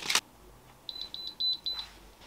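A brief noisy clunk, then a Freesub ST-210 mug press gives a string of short, high-pitched electronic beeps in a rapid regular rhythm, close by and clear.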